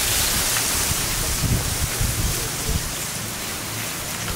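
Steady rain hisses down on a mountain hiking trail near Gunung Halimun, an even, dense wash of falling drops with a few louder patters, with no voices.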